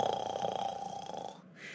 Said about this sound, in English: So, he's here snoring.